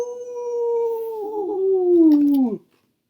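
A storyteller imitates a coyote howling with one long, loud wavering vocal howl that holds steady, then slides downward and cuts off sharply, alone with no other talk.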